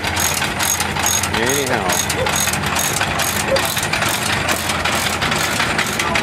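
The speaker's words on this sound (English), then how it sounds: "This is a Type M, 1924 Type M, 6 horsepower kerosene job." A 1924 Type M 6 horsepower kerosene engine runs at a show, close and loud, with a dense rhythmic mechanical clatter and ratcheting beat throughout while someone briefly speaks over it.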